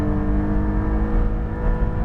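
A 2020 Porsche 718 Cayman GT4 engine revs hard toward 8,000 RPM on a race track, a loud, steady, high-pitched mechanical howl heard up close, with no voices.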